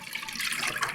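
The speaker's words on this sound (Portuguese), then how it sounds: "E a mesma quantidade, eu vou colocar de leite." Milk poured into a pot while making potato-based coxinha dough gives a soft, continuous liquid splash, fairly quiet and close, with no talk over it.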